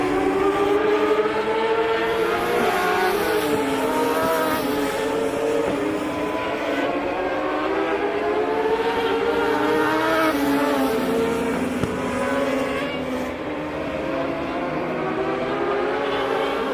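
Racing motorcycles at the Loudon Classic road race, engines wailing and shifting pitch as bikes pass and accelerate through the corner, loud and continuous with no talk.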